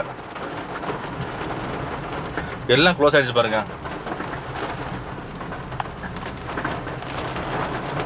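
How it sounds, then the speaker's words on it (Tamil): Steady rain falling in the hills at Achankovil, Kerala, a continuous broadband hiss throughout, with a brief burst of voices in the middle and faint bird calls. "இங்கே நல்லா மழை பெய்யுது"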